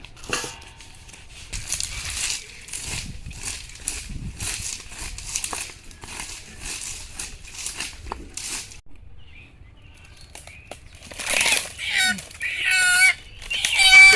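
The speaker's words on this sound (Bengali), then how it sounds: "ইতালি মুরগি" Italian breed chickens cluck in a riverside garden, a run of soft, scratchy clucks and rustling at moderate volume that grows louder and busier toward the end.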